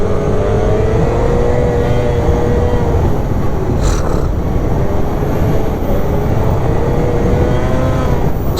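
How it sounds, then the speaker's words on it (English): A turbocharged snowmobile on a new tune accelerates at partial throttle, its engine droning loud and steady while a rising turbo whine spools up over the constant roar, with no talk. "you just give it half throttle and it just spools up and the skis are up just a little bit"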